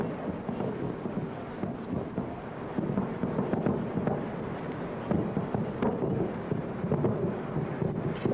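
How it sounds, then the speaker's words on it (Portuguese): An anti-aircraft barrage and bombing during the Iraq war in March 2003: a continuous, distant rumble of gunfire and explosions, with dull booms and crackling bursts rolling over one another without pause. "A barulheira toda é de barragem antiaérea."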